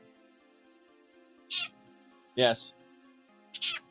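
A cat-like monster in the video game Elder Scrolls 2 lets out short meows, one near the start, another around the middle and one at the end, each standing out against quiet background music. A single brief word is spoken between them.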